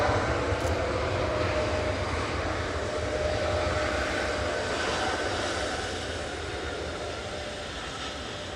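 A TUI Boeing 787-9 Dreamliner departing Manchester Airport for Mahon gives off a continuous low jet-engine roar that slowly fades as it climbs away into the distance.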